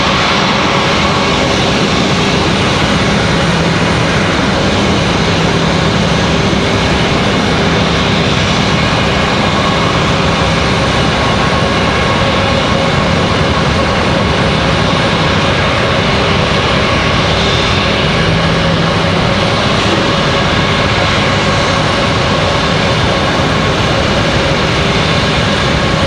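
An American Airlines A319 departs Raleigh-Durham International for Charlotte, its engines producing a loud, sustained jet roar that holds steady with no voices over it.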